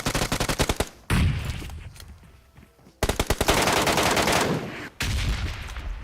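Rapid automatic gunfire fills a shooting video game, loud and close, in several long bursts separated by short lulls.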